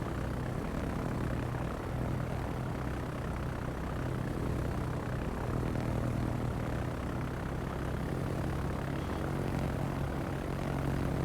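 A plane's aircraft engine in the naval combat game World of Warships drones as a steady, dense propeller hum that stays loud and even for about eleven seconds, with no voices.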